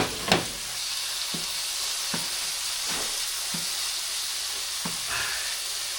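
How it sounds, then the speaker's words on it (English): Porcupine meat frying in butter with Himalayan salt and juniper berries, a loud continuous close sizzle broken by several sharp pops and spatters at irregular intervals. "Fry it up."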